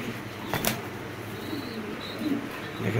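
Pigeons coo faintly in a loft, soft murmuring calls under a brief flutter of wings and general background noise.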